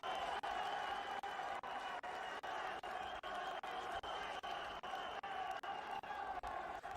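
Arena crowd at a masters-level jiu-jitsu championship in Abu Dhabi reacting to a sweep on the mat, with steady, dense applause and cheering holding at one level throughout and rhythmic dips like a wash of clapping.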